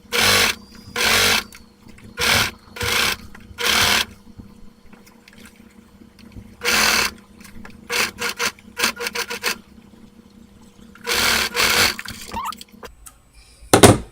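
Sewing machine stitching on shorts in several separate loud bursts of rapid whirring, broken by quieter gaps of handling and small rustles, close up and with no talking.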